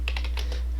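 Keys clack on a computer keyboard while a network switch command for a VLAN interface is entered, a quick burst of about five close, crisp keystrokes over a low steady hum, with no talk.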